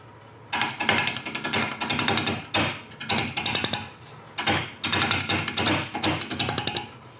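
Spindle roughing gouge cutting sycamore on a wood lathe running around 650 rpm, loud rough chattering bursts of cutting broken by short pauses, close and without talk.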